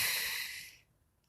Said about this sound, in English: I know you can hear my dog snoring so much